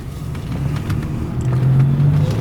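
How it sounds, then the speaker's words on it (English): A 1986 Oldsmobile Toronado's engine pulls under acceleration from inside the car, a low rumbling drone that swells and rises steadily in pitch over a couple of seconds, with no talk over it. "I'm not going to call it a very sporty engine noise, but it's, it's fine"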